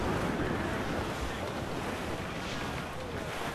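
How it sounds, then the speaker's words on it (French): Strong wind roars over a rough, heaving sea under sail in Assassin's Creed IV: Black Flag, a loud, steady wash of surf and gusts with no voices. "Le vent devient mordant, capitaine."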